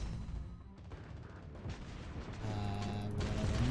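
Naval gunfire from warships in the mobile game World of Warships Blitz, a dense mix of booming cannon shots and crashing impacts over a constant rumbling battle background, growing louder toward the end.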